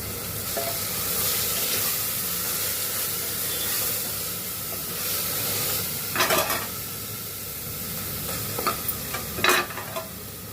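Ginger-garlic paste sizzling in hot oil in a pan while cooking paya, a steady frying hiss with a few sharp scraping strokes of a spatula stirring, near and fairly loud.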